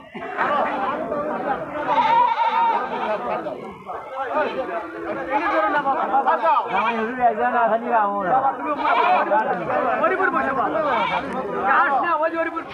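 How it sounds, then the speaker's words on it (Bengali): Beetal goat kids bleat repeatedly at the Boalia livestock market, their overlapping cries mixed into steady crowd chatter and nearby talk. "এটা বিটল জাতের ছাগলের বাচ্চা দেখেন"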